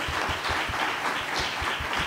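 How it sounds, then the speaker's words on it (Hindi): A congregation applauds during a Hindi church sermon, with steady, fairly close clapping and a rhythmic low thump pulsing beneath it, as if clapping along to a beat. "can you clap for Jesus, hallelujah, जोरदार तालियां खुदा के जलाल के लिए"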